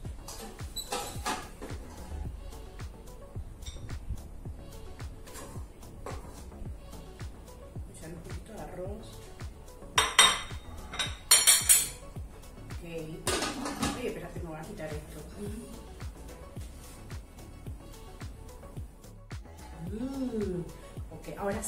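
Utensils clink and scrape against a rice cooker pot while white rice is served, with intermittent clatters and a few sharper metallic knocks under a person talking.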